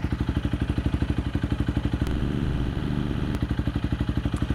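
A Honda CRF300L motorcycle fitted with a MotoX exhaust idles at close range, a steady, even thumping beat from the single cylinder with a short rise in engine note midway.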